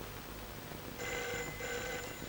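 Telephone bell ringing in a film scene: a faint electronic ring in two quick bursts, alone without speech.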